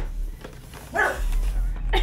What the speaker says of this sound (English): dogs are barking because there's music